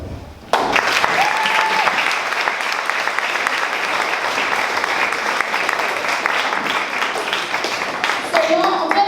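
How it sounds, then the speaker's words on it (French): A talent show audience breaks into loud, sustained applause and cheering for the expert Antoine, dense clapping from a large crowd holding steady for several seconds. "Alors veuillez acclamer bien fort notre expert Antoine."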